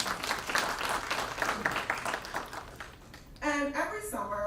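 Audience applause at a provider orientation session, moderate clapping spread through the room, followed by a brief tonal sound near the end.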